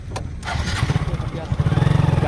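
A motorcycle engine coughs into life and settles into a rapid, throbbing idle, loud and close, with a voice briefly audible over the starting.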